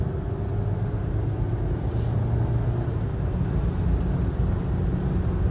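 A 2022 Ford Maverick Lariat with a 2.0-litre turbo engine and AWD pulls at half throttle, heard from inside the cabin as a steady, moderate low drone mixed with road rumble and no talking.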